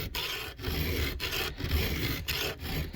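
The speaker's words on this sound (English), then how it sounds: "Now I'm going to start filing it at the proper angle." A hand file works a chainsaw chain tooth through a file guide, giving rhythmic rasping strokes about every half second, close and steady with brief gaps between passes.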